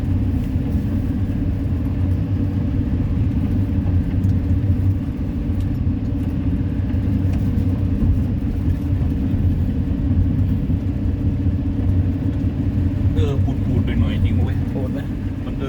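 A Kobelco SK200 excavator engine drones steadily from inside the cab, a loud, constant low rumble with slight revving swells throughout, while voices talk faintly over it.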